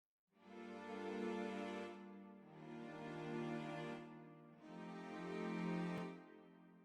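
Orchestral strings from a Kontakt library in a soulful deep house track, playing three long sustained chords, each swelling in and fading, alone and full.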